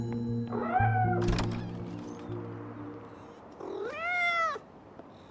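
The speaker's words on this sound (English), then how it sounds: "Kitty." A cat meows twice, loud and close, with a long gap between the calls and other faint household sounds underneath.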